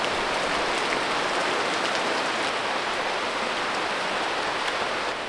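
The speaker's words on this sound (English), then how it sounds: "It's raining like crazy." Heavy rainy-season downpour in Ubud, Bali, a dense, continuous hiss of rain pounding surfaces, loud and even throughout with no voices.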